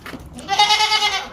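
A young goat kid of about two and a half to three months bleats once in a long, wavering, fairly loud cry after a soft lead-in, with no talking, in an animal sale setting in Karachi.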